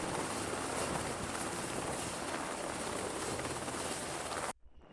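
A loud, steady rotor and engine roar of a military helicopter fills the air without a break, then cuts off abruptly near the end.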